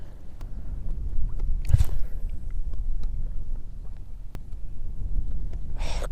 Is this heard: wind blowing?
yes